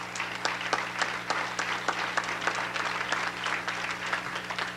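Audience applause for basketball coach Paul Kowalczyk at a Missouri Valley Conference coach of the year event, steady dense clapping sustained throughout, moderately loud with scattered sharper individual claps.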